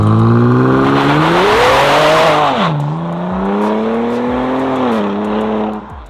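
A tuned Ford Explorer built for rally use accelerates hard from outside, its engine roaring loud and close with rising revs, a gear-change dip, and stuttering thumps as the wheels hop.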